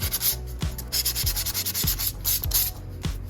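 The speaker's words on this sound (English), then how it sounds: "So I'm just gonna break that off and sand it back down and call it weathering." Rhythmic sanding strokes scraping along the edge of a foam sculpture for a ruins diorama, close and steady with repeated rubbing passes, no talking.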